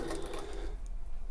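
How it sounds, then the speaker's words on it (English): Briefly, a sewing machine runs a back stitch on a tote bag, a close, quick mechanical whir that stops partway through and leaves a low hum. "I'm going to back stitch"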